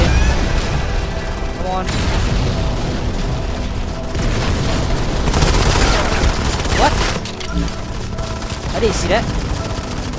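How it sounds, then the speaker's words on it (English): Gunfire in the mobile shooter Modern Combat 5 during a squad battle: rapid, continuous bursts of automatic weapons with occasional louder booms, steady and dense throughout, while a player talks over it. "I'm shooting the wrong player."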